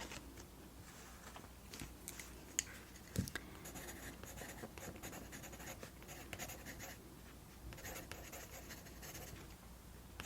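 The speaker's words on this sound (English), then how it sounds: "Let me go ahead and write up a card." Close, quiet scratching of a pen or pencil on paper as a library card is filled out, with short strokes and pauses at an intimate, soft-spoken volume and no talk over it.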